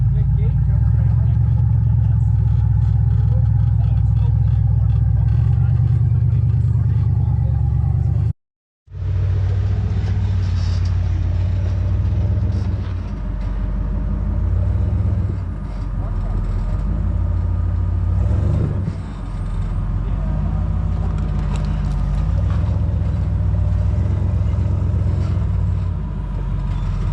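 A rear-steer rock crawler buggy's engine rumbles steadily on rocks, loud and close with low idling and revving swells, briefly cut off by a gap near nine seconds; voices talk over parts of it.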